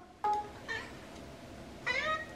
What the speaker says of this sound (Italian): Sei la mia ombra, gatto Denver?